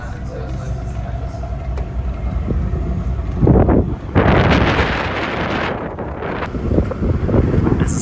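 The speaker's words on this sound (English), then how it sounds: "As I said, it's quite windy out here actually." Strong wind buffets the microphone at a Denmark campsite, a steady roaring rush with louder gusts in the middle and near the end, and a voice speaking faintly underneath.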